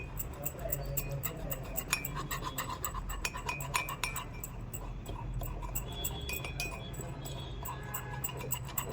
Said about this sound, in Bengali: তারপর এটাকে এরকম করে গোলাতে হবে, একটা পেস্ট তৈরি হবে আর কি